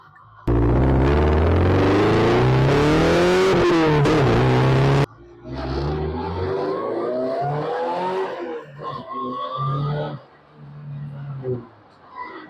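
A Porsche 944 Turbo drives on a race track, with a loud rising engine roar and a gear change followed by quieter cruising and downshifts. People talk over the engine.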